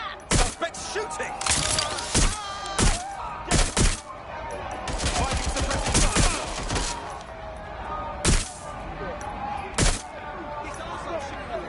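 Video game gunfire from Watch Dogs: Legion, a sharp crack of shots in bursts and scattered single reports over about twelve seconds, with rapid machine-gun stretches, thuds and breaking glass, under radio-style voices.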